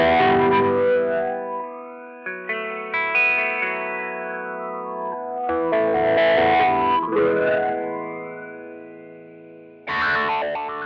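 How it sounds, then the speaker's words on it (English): Guitar run through a Sonuus Wahoo pedal on its F42 dual-filter phaser-like preset: sustained distorted chords with sweeping, swirling filter motion, loud and alone, with a brief pause and a fresh strum near the end. "F42 is a dual filter phaser-like sound."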